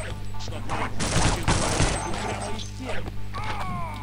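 A burst of loud gunfire and crashing impacts in Half-Life mod gameplay, dense and close, with game noise and a low hum underneath.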